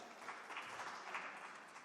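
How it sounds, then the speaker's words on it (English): Applause from members in a European Union conference chamber, a steady, fairly faint patter of clapping spread across the room throughout, with no voices standing out. "The non-Christian Democrats applauded."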